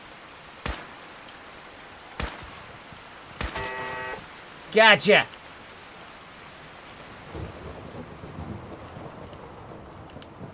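Rain and thunder in a modded video game, steady rainfall with sharp thunder cracks and a rumbling burst midway, while a voice speaks briefly and other game sounds mix in.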